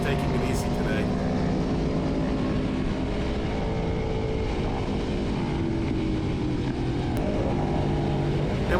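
A Ducati V4S and a Yamaha R1M ride the Angeles Crest Highway with a steady engine drone under heavy wind rush, heard from a following motorcycle at a constant, moderate volume.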